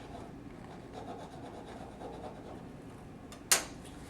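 Folded wings of a book cover are burnished during repair with a steady, quiet rubbing of the tool over paper, ending in a sharp snap near the end, with no talking.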